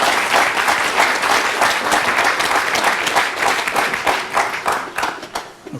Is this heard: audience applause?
yes